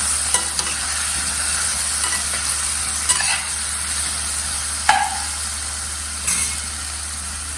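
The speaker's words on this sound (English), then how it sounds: "Now once you throw this in, then you stir it." Potatoes and eggplant stirred in a cooking pan, soft steady sizzling and frying with a few sharp scrapes of the spoon against the pan, close up and with no talk.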